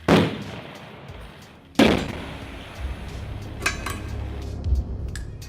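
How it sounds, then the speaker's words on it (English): Two sharp, loud explosions in a minefield about two seconds apart, each followed by a rumbling decay, then scattered thuds and crackles over low noise. "walked through the mined area in the middle of explosions and fire"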